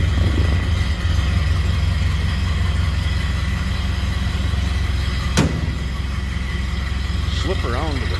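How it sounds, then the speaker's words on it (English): A 1930 Ford Model A Roadster engine idles smoothly and steadily in neutral with a low, even rumble, with a brief sharp click partway through and a voice speaking over it. "Good sounding car, smooth runner. That distinct Model A sound."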